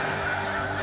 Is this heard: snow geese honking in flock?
yes